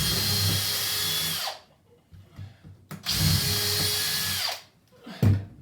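A power drill drives screws during bathroom tiling, in two long whirring bursts separated by a quiet pause, then a brief final blip, loud and close.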